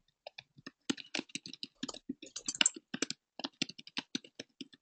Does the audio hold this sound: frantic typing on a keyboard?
yes